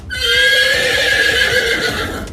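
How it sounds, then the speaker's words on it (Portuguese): A horse neighs in one long, loud, close whinny that wavers and fades over about two seconds, with faint hoof clatter beneath and no voices. "O cavalo relinchou."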